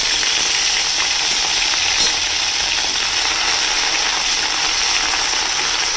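Cumin seeds and ginger frying in hot mustard oil, a steady, close, loud sizzle with fine crackle running unbroken throughout, no talk over it.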